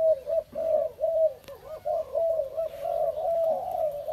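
A male dove coos in repeated rhythmic phrases, close and clear, with a single sharp knock partway through.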